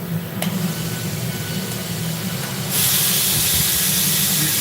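A loud, steady hiss of aerosol brake cleaner starts midway and continues, sitting over a constant background rumble, with no talking.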